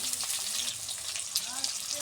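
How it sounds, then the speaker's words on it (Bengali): New potatoes frying in a pan for a curry, a steady close sizzle and crackle that runs throughout at an even level. "আলুগুলো আগে ভেজে নিচ্ছি।"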